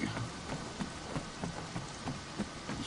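Rain falls steadily in a video game, a dense hiss with faint, soft, irregular drops ticking through it at low volume.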